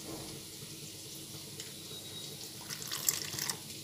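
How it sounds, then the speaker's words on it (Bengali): A little water trickles into ground cumin, Kashmiri chili powder and turmeric for a potato and pointed gourd curry, a soft steady close flow that swells into brief splashing near the end, with no talking. "অল্প জল দিলাম, দিয়ে আমি এই কটা সঙ্গে একটু গুলে নিচ্ছি"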